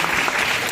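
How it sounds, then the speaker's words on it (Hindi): A brief burst of dense applause from an audience for teachers at a school cultural program, steady and fairly loud throughout. "इनके लिए भी जोरदार ताली बनी"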